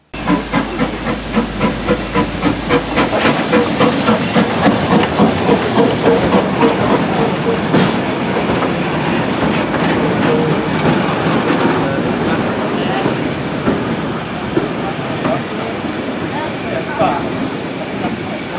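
A Hawthorn Leslie 0-6-0 saddle tank steam locomotive pulls in at a heritage railway gala, loud and close, with steady hissing steam and rhythmic chuffing over wheel clatter that continues throughout.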